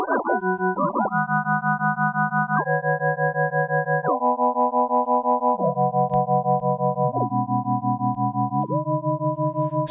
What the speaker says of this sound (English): we like sine waves because we're basic